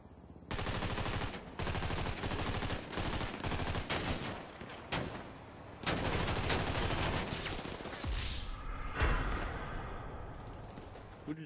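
Rapid bursts of gunfire crackle in a GTA 5 Online mission, loud repeated shots in dense volleys with short pauses between them, sounding more like automatic fire than single sniper rounds.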